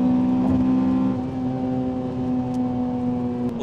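A Honda Civic Type R FN2 with a K20 engine is held high in the rev range, giving a steady, sharp whine that dips slightly partway through. It sounds close, with no voices over it.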